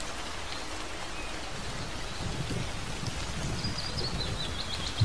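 Raindrops fall steadily through a forest, a soft continuous patter with faint birdsong, slightly louder toward the end.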